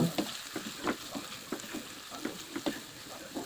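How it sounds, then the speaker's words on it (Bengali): Chopped onion and peeled garlic cloves frying in spiced oil in a pan for a Bengali brain curry, with steady sizzling broken by repeated stirring scrapes, close and alone. "এবার আমি সবগুলো একটু সফট করে ভেজে নেবো"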